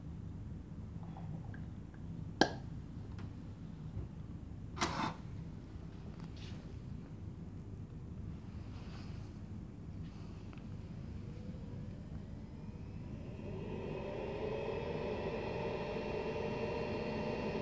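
Laboratory centrifuge spinning pollen samples in ethanol at 14,000 RPM, a low steady machine hum with a few faint clicks early on, then a rising whine that swells and holds louder toward the end.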